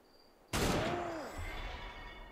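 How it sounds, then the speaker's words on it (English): Gunfire from Assassin's Creed Unity erupts suddenly as a dense burst of musket shots, a loud volley followed by a lingering crackle and rumble, with a faint voice briefly under it. "They're firing at each other."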